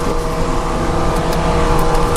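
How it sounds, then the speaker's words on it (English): A private jet's left engine spools up during start on the ground. A loud, steady roar mixes with a high whine that stays strong and unbroken from start to finish. "Engine start performed. Starting left side first."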